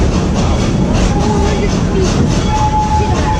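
A park train ride at Busch Gardens in Florida rumbles loudly and steadily, with a dense rolling roar and faint thin squeals from the wheels on the track.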